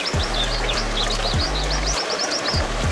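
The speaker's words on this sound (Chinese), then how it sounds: "周围有小树林，再给一点鸟鸣声" Bird song laid into a scene of a small wood beside a pool of fish, with rapid high chirps and trills in a steady run over a low rumbling bed of water-like sound, moderately loud and continuous.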